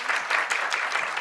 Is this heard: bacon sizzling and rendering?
no